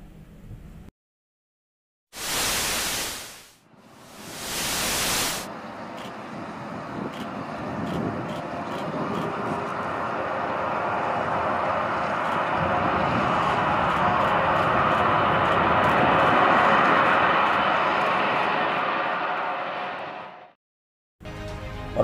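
The Antonov An-225, the world's largest aircraft, taking off or landing: a broad jet roar builds gradually and sustains for many seconds before cutting away. Two short, loud edited noise bursts come before it.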